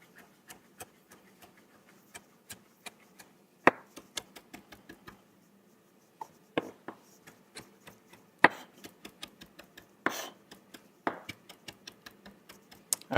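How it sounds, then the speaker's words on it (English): A knife chops fresh dill on a cutting board in sharp, close taps, sometimes quick and steady and sometimes uneven, with short pauses between bursts and no speech. "I'm going to kind of give this a chop."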